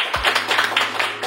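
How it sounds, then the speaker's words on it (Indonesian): An audience at a talk-show style conversation breaks into a short, dense round of hand clapping, close and fairly loud, with no voices over it. "Boleh tepuk tangannya."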